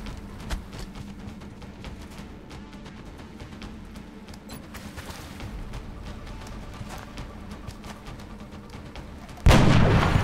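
Gunfire from the turn-based strategy game XCOM: Long War, a steady stream of shots and rumbling impacts from covering fire, ending in a sudden loud close blast.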